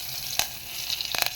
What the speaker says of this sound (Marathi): आणि कढीपत्ता टाकून देऊया फोडणीमध्ये.